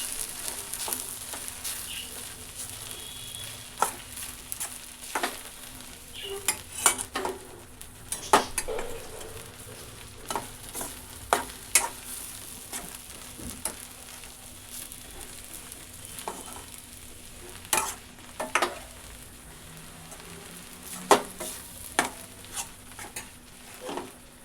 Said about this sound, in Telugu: దాన్ని వేసి మిక్స్ చేస్తూ ఉన్నానండి ఇప్పుడు.